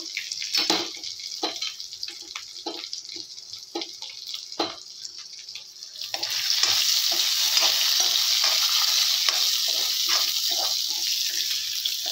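Green chillies roasting in a pan for thecha, first scattered stirring scrapes and light sizzles, then a loud continuous hiss of frying that fills the rest, close and without talk.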